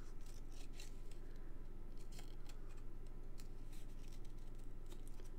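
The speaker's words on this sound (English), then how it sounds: "Getting quite used to this fussy cutting now." Scissors snipping paper in small fussy cuts for a handmade easel card, a run of soft, rapid close clicks over a steady background hum, with no voices.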